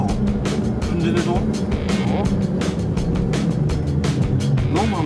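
A Suzuki Jimny engine revving on its own with no pedal pressed, a loud, close, steady engine drone with rough pulsing, and a voice speaking over it.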